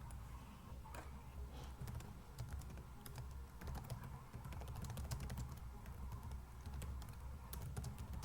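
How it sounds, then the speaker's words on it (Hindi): Steady typing on a computer keyboard, a dense run of quick key clicks continuing for several seconds over a low background hum, with no one talking. "I am better at typing."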